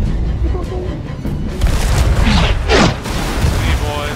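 Cannon fire in Sea of Thieves lands as a few heavy booms with splashing crashes among busy ship noise, loud and close, while players shout over it.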